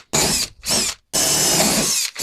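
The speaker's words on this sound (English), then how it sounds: "if you have a drill handy, use the drill" A power drill bores holes for climbing wall T-nuts in a wooden panel, close up, in three whining bursts: two short ones, then a longer run.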